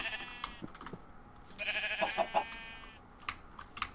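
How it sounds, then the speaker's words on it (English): Video game sheep bleating in a few short, wavering calls at moderate distance, mixed with scattered clicks and light keyboard tapping. "I know there's a lot of sheep around here."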